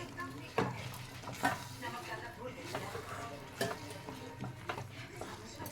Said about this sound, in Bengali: আবারও ভালো করে নাড়িয়ে নেব।